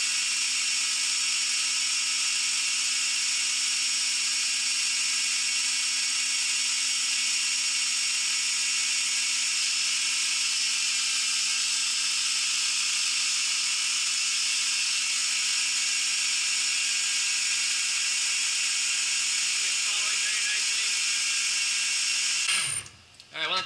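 A grinder cuts a recurve knife bevel in steel with a multi guide, giving a loud, steady whine that runs unbroken for over twenty seconds, then cuts off abruptly at the end.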